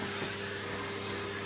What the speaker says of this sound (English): There's some dead insects on the windowsills. Just vacuum those up.